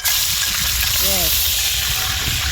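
Escovich fish frying in hot oil in a pot over an outdoor country-style fire: a loud, steady, close sizzling hiss that runs throughout, with a short tonal voice-like sound near the middle.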